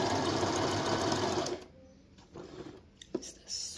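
Brother JV1400 sewing machine running a zigzag stitch, a fast, steady mechanical whir that stops abruptly partway through, followed by a few faint clicks and handling noises.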